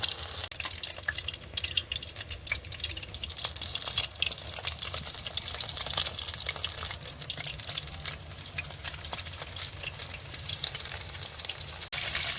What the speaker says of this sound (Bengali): এইভাবে সব পরপর দিয়ে দেব একটা একটা করে আর এটা কিন্তু খুব অল্প আঁচেই ভাজতে হবে